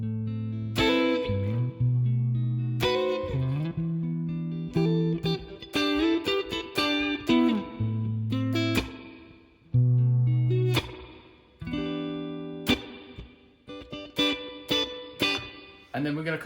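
Electric guitar plays a section of a song with effects, strummed chords and picked notes alternating in loud, clear phrases that stop and restart, with no talking.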